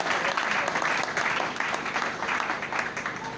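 A church congregation at a Sunday service applauds steadily for God, dense continuous clapping filling the room throughout with a few voices faintly mixed in.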